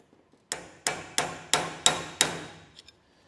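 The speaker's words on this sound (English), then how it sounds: "take a hammer and lightly tap it this way to get it removed" A hammer lightly taps a trailer idler hub part six times in a steady rhythm, each a sharp metallic knock that rings briefly. It is close and clear, with a few faint taps after.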